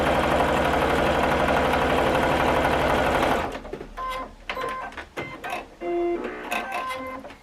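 A sewing machine stitches a quarter-inch seam on a Christmas present quilt block: a loud, steady mechanical whir for about three seconds, then stops, leaving scattered light clicks and handling sounds.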